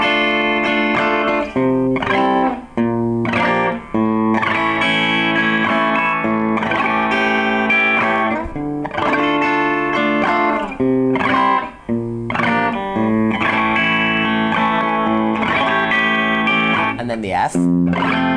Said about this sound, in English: I'll give you a quick demonstration and then I wanna show you a different strumming pattern